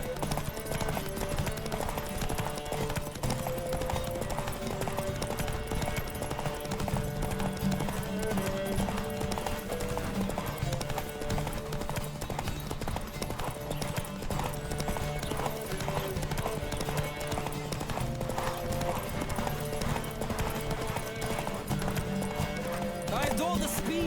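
Horse hooves pound in a fast, continuous gallop in a horse race in The Witcher 3: Wild Hunt, over a dense, busy mix of game music and effects, with a voice breaking in now and then.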